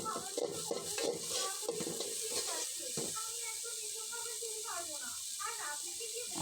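Onions and green chillies sizzling as they are stirred in a hot pan, scraping strokes close by and steady frying hiss throughout, with a voice talking over the cooking.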